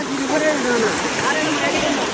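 A waterfall flows in a steady rushing roar, close and continuous, with a voice talking over the water.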